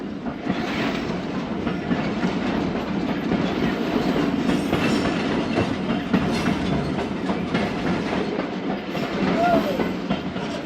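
A Thal Express train rolls through desert toward Kalur Kot railway station, with a steady, loud rumble and rhythmic clickety-clack of wheels on rails continuing throughout, heard from on board.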